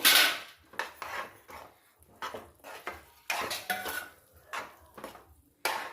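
A utensil stirs grated coconut into sugar syrup in a metal pan, making repeated close scraping and clinking strokes in an irregular rhythm, with short pauses between them.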